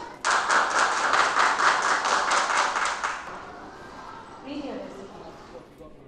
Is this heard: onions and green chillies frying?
no